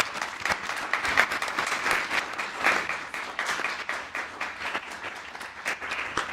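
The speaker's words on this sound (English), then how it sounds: "A round of applause for our panelists." Seminar audience applauding a panel at a disability studies event, a full round of many hands clapping at once, loud and continuous with slight swells, no voices over it.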